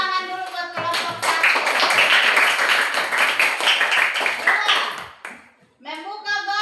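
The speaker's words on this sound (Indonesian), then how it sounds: "Tepuk tangan dulu buat kelompok 1." Children in a third-grade classroom clap together for a group during a lesson, a dense burst of many small hands lasting several seconds, with a teacher's voice heard before and after.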